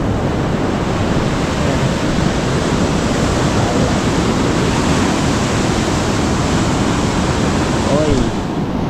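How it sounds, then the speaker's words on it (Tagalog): Ocean waves roll onto the beach at Bukana in a loud, constant roar of surf and wind. The crash sounds close, and a voice briefly cuts through near the end. "Lalo lumaki ulit ang alon."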